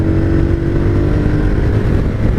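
A Harley-Davidson Street Rod 750 motorcycle cruising steadily, its engine a continuous low droning rumble with wind noise throughout, loud and close with no talking.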